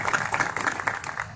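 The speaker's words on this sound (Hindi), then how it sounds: "अपने आप के लिए एक बार जोरदार तालियां बजाना।" Audience applause at a large Hindi-language gathering, a dense burst of clapping lasting just over a second, fairly loud and steady with no speech over it.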